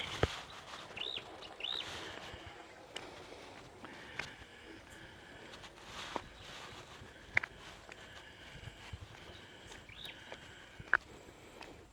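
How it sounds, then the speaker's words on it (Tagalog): Scattered bird chirps and a few sharp calls ring out over a quiet outdoor background by the Tres Cruses River in Tanza, Cavite, faint and somewhat distant. "Ang marinig mo lang yung huni ng ibon."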